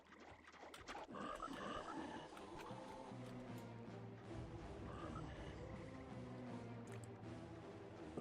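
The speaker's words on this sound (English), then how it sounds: "It's a lot of frogs." Frogs croak in a swampy zone of the EverQuest video game, a dense chorus of low, overlapping croaks and grunts that carries on steadily throughout, fairly loud and without voices.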